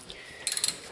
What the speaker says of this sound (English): I go right with the wrench and undo them